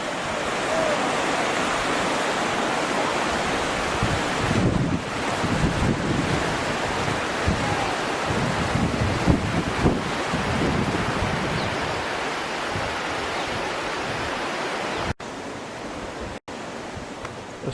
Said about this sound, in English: Tourists were having fun going down the rapids